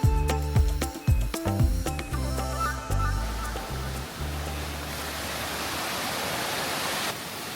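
Waterfall in Munduk, northern Bali, a steady broad rushing roar that takes over after a few seconds of close thumps and handling noise.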